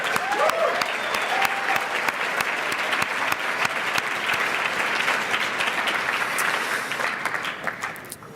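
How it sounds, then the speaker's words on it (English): A large crowd applauds in a big ballroom at a justice teach-in, dense sustained clapping that holds steady and loud before tapering off near the end. "let's give them a round of applause."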